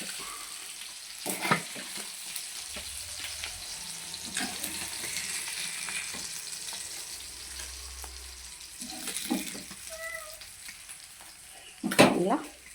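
Fish fries in a pan with a gentle ongoing sizzle, interrupted by intermittent clatter and a burst of sharp handling noise near the end, with some watery splashing sounds mixed in.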